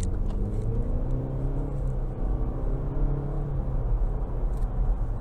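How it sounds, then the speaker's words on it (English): A 2023 Chevrolet Blazer 3LT with a turbocharged 2.0-litre engine accelerates out of a corner. A close, continuous low engine rumble and whir carries from inside the cabin, with no talking. "we'll give it some more throttle coming out of this corner here"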